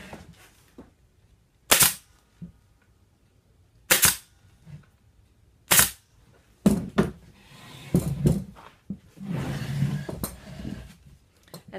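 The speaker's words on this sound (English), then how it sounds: "That allows me to roll this around and staple it on the back." Pneumatic staple gun firing upholstery fabric onto the back of a Parsons chair: several sharp, loud single snaps spaced a second or two apart, then a quicker cluster of shots with some fabric handling noise between them.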